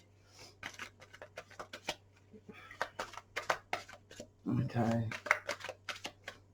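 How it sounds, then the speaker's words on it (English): Tarot cards shuffled by hand in a series of short, crisp riffling and flicking bursts, close and fairly quiet over a low steady hum, with a brief voice partway through. "I'm going to do 3 more shuffles"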